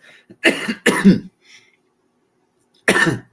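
A man coughs in two harsh bursts, then a third after a pause, loud and close in a quiet room.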